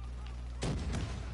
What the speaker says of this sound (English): I'm tossing a grenade.